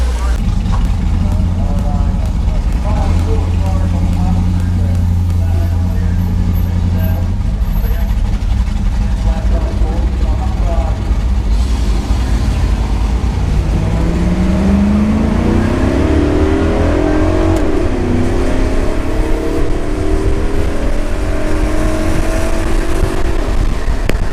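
A Chevrolet Camaro at Farmington Dragway, its engine idling loud and close, then revving and accelerating hard with rising engine pitch in the second half.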